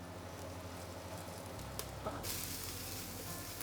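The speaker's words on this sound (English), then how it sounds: "Sweating down some shallots" Shallots and lemongrass sweating in oil in a pot, a faint, steady sizzle with a soft clatter partway through before the hiss brightens and continues.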